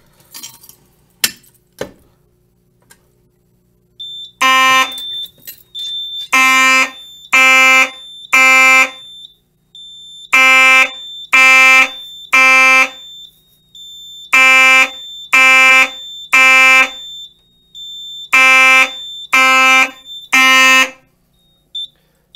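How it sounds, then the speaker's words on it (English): A high-pitched Simplex fire alarm horn on a Simplex 4010 panel test setup sounds in loud, repeated groups of three sharp blasts with short gaps between them. A few faint clicks come first. "you can hear that is a much higher pitched horn compared to the other one"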